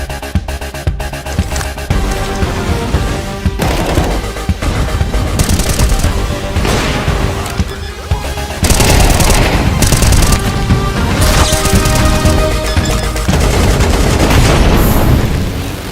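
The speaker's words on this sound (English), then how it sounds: "Counter-Strike is known for its visceral and satisfying gunplay." Gunfire from the Counter-Strike 2 video game, loud bursts of weapon shots and booming impacts layered over a dense, driving trailer soundtrack, continuous and intense throughout.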